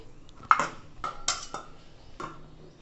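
A lid goes onto a pot of rice and dal for khichdi, with a few sharp metallic clinks and clanks spaced over a couple of seconds, close and clear.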